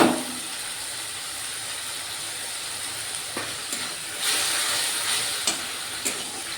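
Sauce poured into a hot pan of fried soya chunks and potato, setting off a steady close sizzle and hiss with a few brief stirring scrapes and bursts of steam toward the end.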